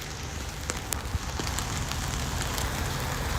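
Steady rain in the Pokémon GO mobile game, a continuous dense hiss of falling drops with a few brighter patters scattered through, even and close, heard alone without any talking.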